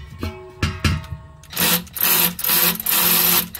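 Socket wrench working on an engine part of a supercharged V8 Jaguar X350 XJR, close up: a few sharp metallic clicks, then sustained bursts of rapid mechanical whirring and rattling.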